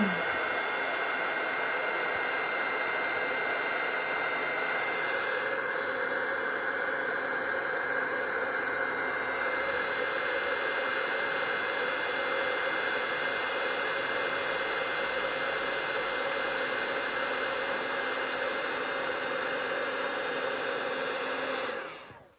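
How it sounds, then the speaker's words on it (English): An embossing heat tool blowing hot air over embossing powder on a stamped birthday card: a loud, continuous fan-like whoosh and hiss that holds steady for about twenty seconds, then cuts off abruptly. "I'm just going to take my heat tool"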